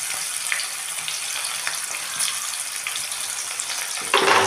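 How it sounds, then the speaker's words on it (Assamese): Finely chopped onions sizzle in hot oil in a pan with a bay leaf and two dried red chillies, a steady close bright crackle, briefly louder near the end. "আৰু এইখিনি অকণমান গোল্ডেন হোৱালৈকে মই ভাজি ল'ম"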